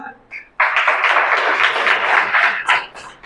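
A church congregation claps together during a sermon, a dense burst of handclaps that starts abruptly and holds steady for a few seconds before thinning into scattered claps.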